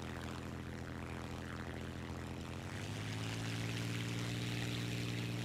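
A propeller airplane engine in the War Thunder game drones steadily and continuously, its tone shifting and growing slightly louder midway as it pulls up.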